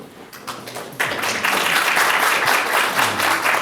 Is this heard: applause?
yes